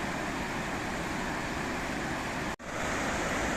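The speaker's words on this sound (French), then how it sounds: "Ça c'est la cascade qu'on a vue il y a 2 jours." A raging mountain waterfall in Slovakia's Velká Studená dolina, swollen after rain, roars as a loud, steady broadband rush with one momentary dropout and no voices.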